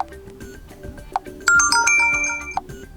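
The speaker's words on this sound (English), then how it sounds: "your notification sound has changed successfully" Realme C11 phone plays a bright notification chime, a quick sequence of clear rising tones over a second or so, standing loud and alone after some quiet tapping.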